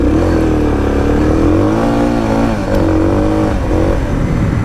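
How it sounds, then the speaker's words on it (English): A Suzuki DR650 dual-sport motorcycle's single-cylinder engine revs hard and close while the bike drifts, its pitch wavering up and down as the throttle is worked. "Drifting on my DualSport."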